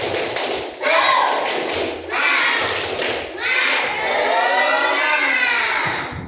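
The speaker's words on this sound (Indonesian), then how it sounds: "kita tepuk semangat terlebih dahulu ya" A class of children claps a rhythmic spirit-clap pattern in a classroom, the bursts of claps mixed with their chanting voices, close and lively.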